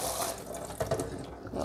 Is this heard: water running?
yes